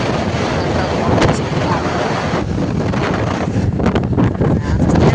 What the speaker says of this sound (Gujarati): પવન એટલો આવે છે કે મને હાથમાં નથી આવતો